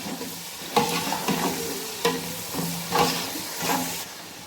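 Whole spices (cinnamon, black cardamom, cloves, dried whole red chillies and cumin) frying in oil for beef pulao, a steady sizzle broken by several louder stirring scrapes and pops roughly every second, close and unaccompanied by speech.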